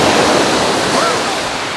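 Ocean surf rolls onto a beach in Albania as a loud, continuous broadband wash, steady and close throughout, with some wind noise mixed in.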